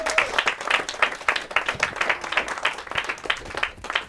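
Audience applause for Fraser during a live show, a fairly small crowd clapping in uneven bursts for about four seconds with no talking.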